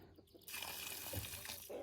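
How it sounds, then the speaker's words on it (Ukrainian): Nutrient solution is poured from a container onto potted pepper seedlings, a soft steady trickle and splash of liquid into soil, quiet and close, beginning abruptly and running throughout. "Під перець наливаю приблизно пів літри готового розчину."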